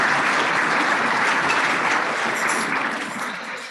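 Steady applause fills a banquet hall at a lawyers' awards dinner, honoring a bank sponsor, a dense even clatter of many hands that slowly fades toward the end.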